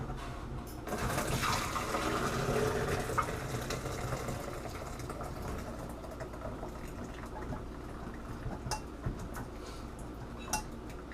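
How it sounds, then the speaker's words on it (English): A herbal autumn lung and skin elixir is strained into a sink, making a steady pouring rush of liquid with faint clinks of a glass container, loudest at first and fading to light trickles and drips, with no talking. "strain this into the sink."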